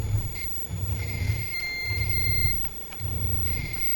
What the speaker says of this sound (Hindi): ये इसका बजर आवाज करने लग गया, इसका भी कुछ करना पड़ेगा मुझे।